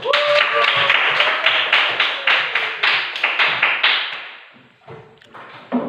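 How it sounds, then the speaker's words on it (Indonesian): Children in a classroom clap their hands together in a steady, rapid run of sharp claps that holds for about four seconds, then trails off into a few scattered claps near the end. "Tepuk tangan dulu."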